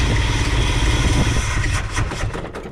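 A 1978 Ford F350 crew cab ramp truck with a big block engine idles roughly, a close, steady low rumble with uneven pulses and a slight exhaust leak, sounding alone with no talk.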